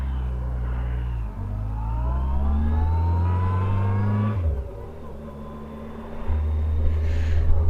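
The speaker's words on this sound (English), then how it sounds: "good old Auckland traffic" Auckland road traffic heard from a motorcycle: a steady low engine drone with shifting revs, dipping and then picking up again, and faint higher whines passing through, continuous and fairly loud.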